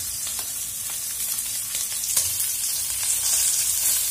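Duroc short rib searing over an open fire, a loud steady sizzle and crackle of fat on hot meat, close up and continuous with no talk.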